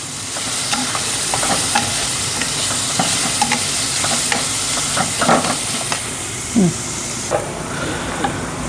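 Onions frying in oil with a little garlic for a drumstick-leaf bhaji: a continuous sizzle broken by scattered scrapes and taps of a stirring spoon against the pan, close and fairly loud.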